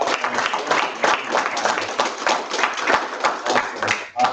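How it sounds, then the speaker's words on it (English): Clapping from attendees at a university student government council meeting, a steady close patter of hands lasting a few seconds before it tapers off. "I just want to give a round of applause to all the councilors."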